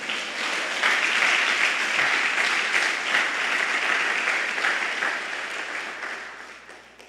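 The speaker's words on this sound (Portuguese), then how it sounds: "Você pode dizer glória a Deus e aplaudir a Jesus." A church congregation claps steadily in sustained applause during a service, loud and continuous, fading gradually toward the end.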